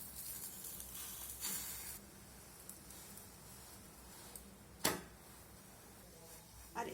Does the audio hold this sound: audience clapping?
no